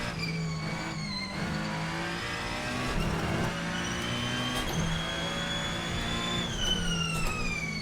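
Ferrenzo P49 race car engine in Assetto Corsa pulling hard on throttle, a loud high-pitched wail climbing through the revs with brief dips at gear changes and a faint tire squeal, steady and close throughout.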